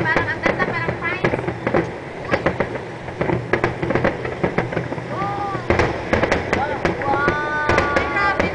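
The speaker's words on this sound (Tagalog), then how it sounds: "Alam, mas maganda ang fireworks." Fireworks bursting at a Lunar New Year celebration in Hong Kong, with rapid crackling pops and deeper booms recurring throughout, heard from amid an excited crowd as people chatter and exclaim over the blasts.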